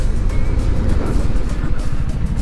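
A QJ Motor Fortress 400 scooter riding at about 50 km/h, its engine giving a steady close hum mixed with wind rush and road noise.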